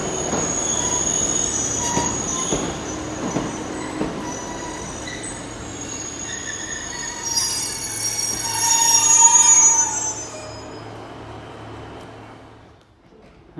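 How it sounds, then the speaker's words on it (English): A South Western Railway train arriving at Exeter St David's from London Waterloo rolls in with rumbling wheels and rising high-pitched wheel squeal that peaks before fading as the train slows. "coming in now, we are terminating South Western Railway service from London Waterloo"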